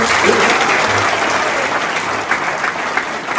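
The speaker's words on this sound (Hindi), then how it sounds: "मैम के लिए जोरदार ताली हो जाए।" Audience at a motivational speech at an engineering college breaking into loud, dense applause, many hands clapping close and continuously with a faint crowd murmur underneath.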